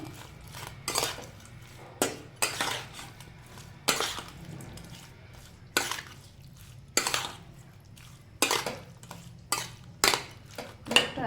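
Shrimp tossed with turmeric and salt in a bowl gives a close series of irregular clicks, taps and clatters against the bowl, with soft wet squelches between them and no voices.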